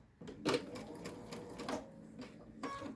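Domestic sewing machine stitching a quarter-inch seam along the top of a fabric face mask, a short close burst of rapid mechanical clatter that briefly pauses and starts again, with no talking.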